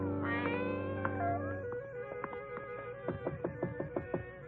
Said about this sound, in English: A gray Persian cat followed us.